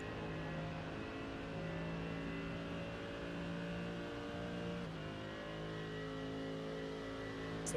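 Mercedes race car engine in the iRacing video game, holding a steady, sustained high-revving drone at full throttle with a slight pitch dip midway, loud and continuous with no voices over it.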